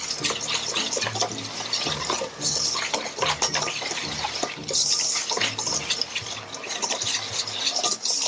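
Egg white being stirred into langue de chat cookie batter, a continuous wet scraping and sloshing with steady rhythmic strokes, close and moderately loud throughout.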